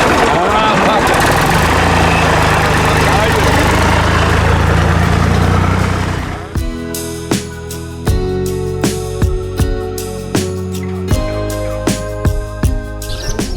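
A tractor engine idles in a village in the Dojran area, a loud, steady rumble under voices for about six seconds before it cuts out, leaving scattered clicks and bird chirps.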